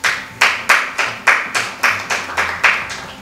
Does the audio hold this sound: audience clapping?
yes